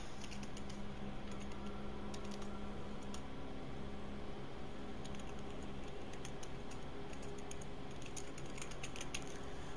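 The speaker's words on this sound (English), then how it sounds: "I'll have to type it out" Continuous typing on a computer keyboard, steady quiet clicking keystrokes in a rapid, slightly irregular rhythm against faint background hum.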